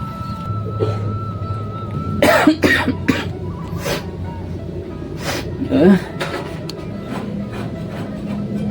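Several short coughs break out, two close together and then a couple more later, against a murmuring, noisy indoor background.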